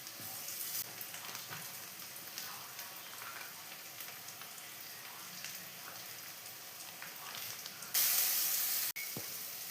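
Garlic, tomato and spices frying in a pan, a faint steady sizzle and hiss with small crackles throughout, ending in a brief louder burst of spattering near the end.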